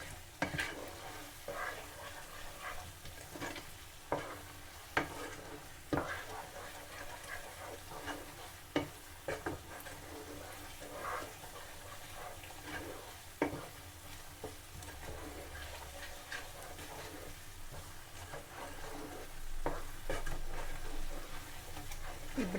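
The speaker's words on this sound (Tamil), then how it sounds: "இப்போ நாங்கள் இந்த உள்ளியெல்லாம் போட்டுக்கிறதால இன்னொரு 3 நிமிஷத்துக்கு இதை இப்படி கிண்டணும்." Garlic fries in a pan for garlic pickle while being stirred, with a steady soft sizzle broken by repeated scraping strokes of the spoon against the pan.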